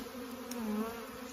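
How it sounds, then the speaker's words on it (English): A honeybee swarm full of drones hums in a steady, close, continuous buzz with no voices over it. "what we have here is engorged honeybees, a bunch of drones, and plenty of bees"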